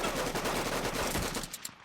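A minigun fires in a cartoon fight scene as a dense, continuous roar of rapid gunfire lasting under two seconds, loud and unbroken, with no voices over it.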